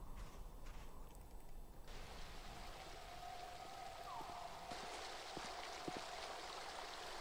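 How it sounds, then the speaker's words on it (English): Steady rushing water from a waterfall in a point-and-click adventure game, a continuous broadband wash that stays even throughout, with a few faint tones and a soft drip or two above it. "So basically, we go up to that waterfall area."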